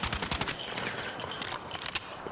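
Rapid bursts of gunfire from the video game Battlefield 6, dense overlapping shots and automatic fire crackling throughout, loud and close with no talk over them.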